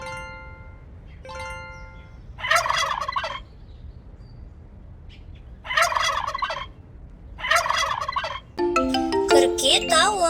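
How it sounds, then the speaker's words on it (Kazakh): A turkey gobbles in three loud rattling bursts, spaced a few seconds apart, with short tonal chimes before and a jingly melody at the end. "Күрке тауық."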